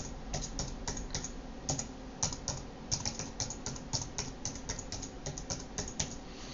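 Steady run of keystrokes on a computer keyboard while a new router password is entered, quick irregular taps at close range over a faint background hum, with no voices.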